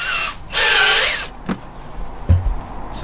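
A power drill whines at high speed for under a second, boring a 38mm hole in a plastic water butt on the floor, then stops, followed by a few light knocks and clatters nearby.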